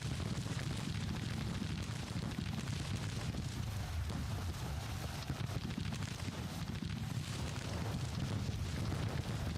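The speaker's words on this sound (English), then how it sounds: "Artillery's still shooting at someone." Civil War artillery in Grand Tactician: The Civil War rumbles as a continuous low, heavy barrage with dull booms blending into a steady roar of distant battle noise.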